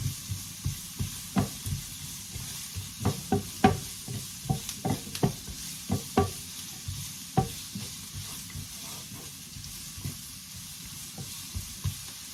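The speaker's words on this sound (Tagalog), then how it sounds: "Fry lang natin kaunti, halo-halo lang." Onion, garlic and puree fry in a pan under a steady soft sizzle, with a quick run of close spoon scrapes and knocks as the mixture is stirred, then slower, sparser strokes.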